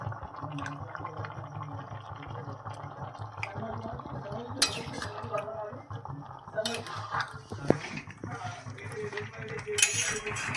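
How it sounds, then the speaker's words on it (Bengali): Grated carrots simmer in milk over a high flame for carrot halwa as a spoon scrapes and clinks against the pot in uneven bursts, over a low background hum. "এবারে গ্যাসটা হাই ফ্লেমে রেখে গাজরটা এইভাবেই কন্টিনিউয়াস নাড়তে থাকবো যতক্ষণ না দুধটা আস্তে আস্তে ঘন হয়ে আসছে"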